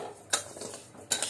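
Fine village rice roasting in a pan, stirred with a metal spoon: two sharp scraping clinks against the pan stand out over a faint dry rustle, brief and close.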